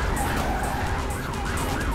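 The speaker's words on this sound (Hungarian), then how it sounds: "Ah, végre kiütöttünk egy rendőrautót." A police car siren wails in a video game, its tone sweeping up and down repeatedly over a steady engine roar, fairly loud and continuous, with no talk.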